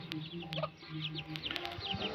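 Chickens cluck softly nearby in short, scattered bursts, with faint peeps and rustling in a quiet setting.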